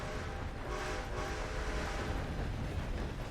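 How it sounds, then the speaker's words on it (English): A train rolls through a town in a Wild West roleplay video game, a steady broad rumble with faint tonal horn-like lines, continuous and moderately loud without talk. "is that a train going by?"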